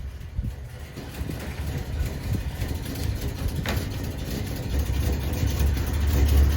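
A squarebody Chevrolet Suburban idles with a low, steady engine rumble that grows a little louder and heavier as it is pulled out, with no one speaking.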